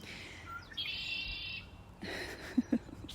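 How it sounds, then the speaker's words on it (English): A red-winged blackbird's buzzy, trilling call rings out over low outdoor noise, followed by a couple of short chirps, fairly faint and somewhat distant. "Red-winged blackbirds are always so funny."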